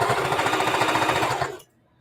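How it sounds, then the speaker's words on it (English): A sewing machine stitches close to the edge of a mitered quilt binding, a loud, rapid, rhythmic chatter of stitches running steadily for about a second and a half before cutting off into silence. "I'm sewing it like as close to the edge"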